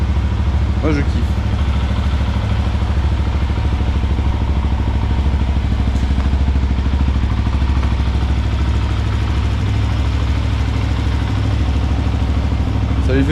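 Benelli motorcycle idling, a steady low engine rumble that runs unchanged throughout, loud and close, with a voice speaking over it.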